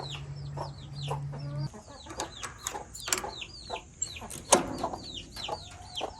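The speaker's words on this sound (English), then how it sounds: "Hello there, chickens." Several chickens cluck and squawk close by in a busy, overlapping chorus, with sharp higher calls mixed in.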